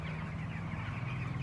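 Chickens cluck on a poultry farm, soft overlapping clucks under a steady low background hum, fairly faint and continuous.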